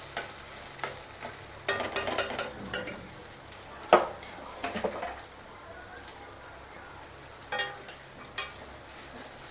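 Masala spices frying in hot oil while being stirred, a quiet steady sizzle broken by repeated spatula scrapes and knocks against the pan, with occasional talking in the background.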